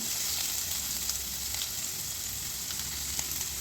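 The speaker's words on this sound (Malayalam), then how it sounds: "അതുകൊണ്ട് അതൊന്ന് നല്ലതായിട്ട് മൂക്കുന്നോളം വരെ നമുക്ക് വഴറ്റി കൊടുക്കണം" Small onions sautéing steadily in a hot pan, giving a continuous even sizzle with faint crackles throughout, close and alone with no talking.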